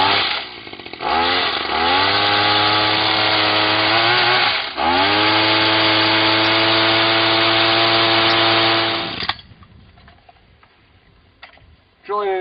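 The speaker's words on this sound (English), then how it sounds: "Drilling in this hard limestone" A loud, close rock drill boring into hard limestone in a quarry roars, its pitch winding up twice before running steadily, then cuts off abruptly, leaving near quiet.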